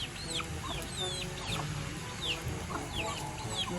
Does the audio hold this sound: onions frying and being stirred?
no